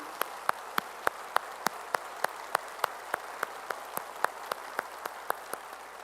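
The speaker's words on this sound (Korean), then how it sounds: "우리 이분들 위해서 수고해달라고 박수하시죠" A church congregation claps in unison with a steady, even beat, about three sharp claps per second throughout, moderately close and with no talk over it.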